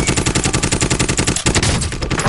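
An assault rifle in a shooter game fires a fast, steady automatic stream of loud, close shots, evenly spaced, with the burst breaking into messier impacts near the end.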